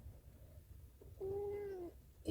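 A cat gives one clear, drawn-out meow close by in a quiet indoor room, with a faint softer sound just before it and a brief noise at the end.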